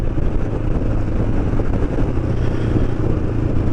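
Motorcycle engine idling and revving close by, a loud, steady rumble with a slight rise in the middle and no pause.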